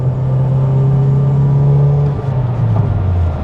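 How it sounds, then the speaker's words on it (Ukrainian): A Volkswagen Golf 7 GTI accelerating in fourth gear, a steady loud engine drone heard from inside the car with the pitch shifting slightly as it pulls, no voices. "Тобто ми натиснули, прискорюємося."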